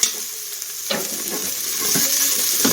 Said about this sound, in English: And I'll let that saute for just a minute till the garlic becomes fragrant.